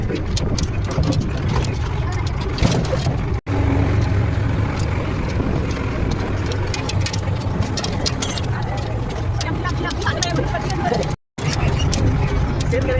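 A tractor carrying people through a green village toward a field drones on with a continuous low engine rumble and road noise. Voices talk over it throughout.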